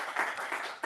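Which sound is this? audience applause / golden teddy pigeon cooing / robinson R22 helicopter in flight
audience applause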